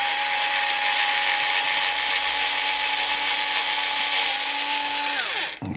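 A small power drill with a 2.5mm bit runs at a steady high-pitched whine for several seconds while drilling into a Tamiya TT02 RC car part, then winds down and stops at the end.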